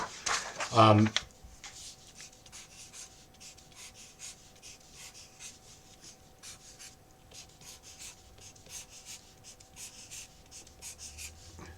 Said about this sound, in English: let me just write it out again